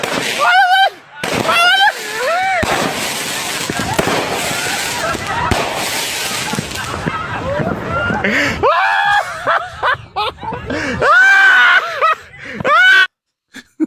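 Fireworks crackle and bang from a played recording, mixed with shrieks, laughter and excited shouting, loud and chaotic before breaking into scattered bursts and pauses.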